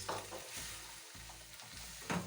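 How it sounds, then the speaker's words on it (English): Spaghetti with broccoli and soy sauce being stirred in a frying pan, a quiet sizzle punctuated by soft rhythmic scraping strokes of the utensil against the pan. "I love stirring food"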